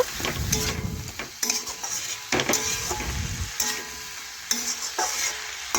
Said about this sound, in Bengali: এই দেখুন এইভাবে নাড়াচাড়া করে মিশিয়ে নেব।